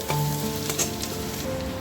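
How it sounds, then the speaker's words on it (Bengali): Onions fry in oil for a chicken dish, a close, steady sizzle with light crackles, heard alone. "পেঁয়াজটা আমার লাল করে ভাজা হয়ে গেছে"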